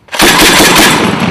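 A Mk 19 grenade launcher fired by Marines, a loud, close, rapid burst of heavy thumping rounds that fills the clip with roaring echo.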